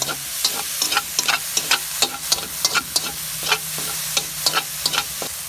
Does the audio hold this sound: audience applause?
no